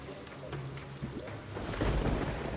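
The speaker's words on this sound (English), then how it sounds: "Apologies for the loud thunder noises" Rumbling thunder sound effect from the video game Terraria, played with the Fargo's Eternity mod, swelling into a loud, sustained roll with rain-like hiss over its final second.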